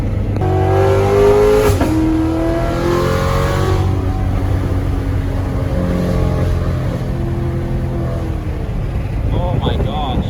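A Corvette, modified to be louder, roars with a sustained engine note whose pitch climbs and falls as it revs, loud and close throughout, with excited voices talking over it.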